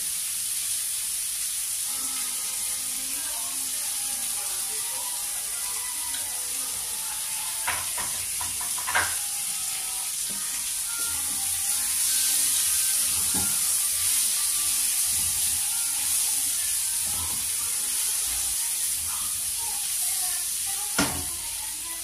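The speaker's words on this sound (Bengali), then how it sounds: "হালকা ভাজা হয়ে গেছে" Continuous hissing sizzle of vegetables frying in hot oil, with a few occasional clanks of a utensil against the pan, close and steady.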